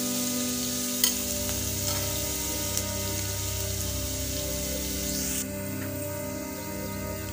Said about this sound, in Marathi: तेल गरम झाल्यानंतर त्यामध्ये वाटलेला लसूण घालायचा आहे। लसूण सोनेरी रंगाचा होईपर्यंत परतून घ्यायचा आहे।